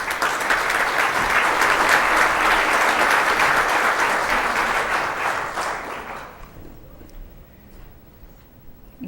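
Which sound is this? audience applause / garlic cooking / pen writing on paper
audience applause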